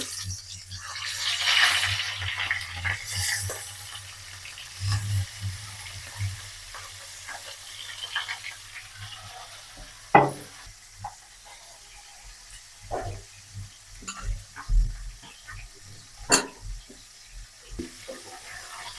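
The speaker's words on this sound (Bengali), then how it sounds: "তেল গরম হয়ে গেছে, মাছের মাথা দিয়ে দেব।" A fish head dropped into hot oil in a wok gives a bright burst of sizzling hiss early on. The sizzle then settles to a faint crackle, broken by a few sharp clicks and knocks.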